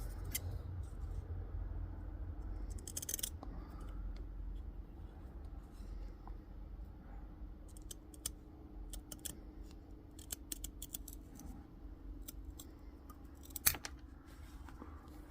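Scissors snip through thin leather to cut out tiny 2mm and 1mm wargaming miniatures, a series of sharp close clicks and crisp snips scattered irregularly over a quiet low background hum.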